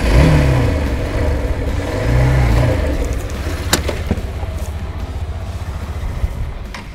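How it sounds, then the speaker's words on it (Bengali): A Hero Thriller 160R motorcycle engine runs close by, revving twice early on, then settling into a steady, rumbling idle with a brief click partway through. "বাইকটির স্টার্ট অফ হয়ে গেল।"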